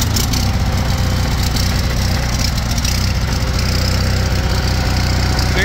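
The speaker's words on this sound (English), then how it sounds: "Does your Onan generator intake freeze up when it's running? I mean, it's fully warmed up." An Onan 6kW generator engine runs steadily, fully warmed up, with a dense continuous drone that stays loud and unchanging from start to finish.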